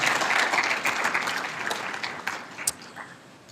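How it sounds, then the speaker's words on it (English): Crowd clapping at a Dr. Martin Luther King Jr. celebration event fills the opening, loud and dense, then gradually thins and fades over a few seconds with a few scattered claps near the end. "Let's give them both a big round of applause."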